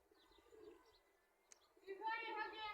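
Soft, low cooing of pigeons, faint at first and then a fuller, throaty coo swelling near the end, with a brief tap midway.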